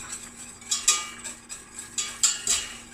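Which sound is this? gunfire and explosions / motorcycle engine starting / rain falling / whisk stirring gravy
whisk stirring gravy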